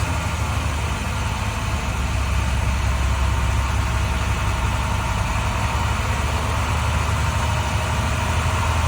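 School bus engine held at a fast idle of about 1,500 RPM, a steady, loud, low diesel-like drone with constant vibration and no change in pitch, close by with no talking.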